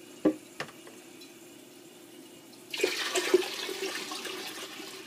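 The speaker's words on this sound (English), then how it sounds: "That's the way it flushes." A household toilet that flushes slowly, being treated with hot water and dish soap, flushes at a moderate distance: a couple of faint clunks, then a sudden rushing, gurgling surge of water that carries on steadily to the end.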